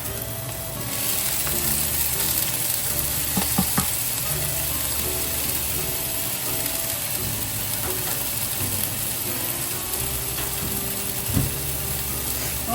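Tomato sautéing and being stirred in a pan with garlic for an eggplant dish, a steady close sizzle with scraping and clinking of the utensil against the pan throughout, no talking.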